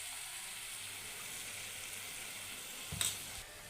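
Tomato, onion and chili powder sautéing in a pan for a white pumpkin gravy give a steady, soft sizzle throughout, with a brief louder scrape or stir near the end.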